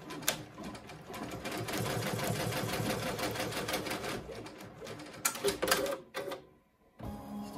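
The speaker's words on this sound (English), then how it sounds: "this may stitch on the stabilizer" An embroidery machine sews a placement stitch onto stabilizer for an in-the-hoop hand sanitizer holder, giving a steady, fast mechanical stitching rattle at close range. The stitching stops briefly near the end, then resumes.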